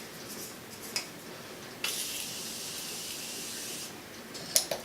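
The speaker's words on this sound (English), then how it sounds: "I'm gonna apply some Morphe setting spray" Morphe makeup setting spray misted from a pump bottle onto a face, a few quiet pumps with one longer hiss of about two seconds in the middle, close and faint against a quiet room.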